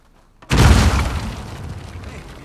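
A sudden, loud explosion in the Uncharted 4 video game erupts after a brief quiet, then rumbles and decays gradually over the next two seconds.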